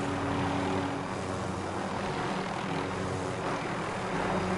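Helicopter in a battle royale video game, a continuous droning engine and rotor hum with steady tonal whine, filling the whole stretch at even loudness with no voices.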